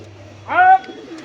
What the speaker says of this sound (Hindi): मैंने कबूतर खोल दिया, अपने नए कबूतर, अब देखना था मैंने, देखो कुछ नहीं करा मैंने, कबूतर उड़ गया।